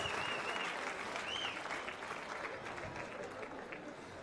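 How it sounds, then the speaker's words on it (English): Applause from the audience at a ceremony marking Zambia's 59th independence anniversary, steady crowd clapping throughout with faint whistles and voices mixed in, heard from some distance. "let's give him a round of applause"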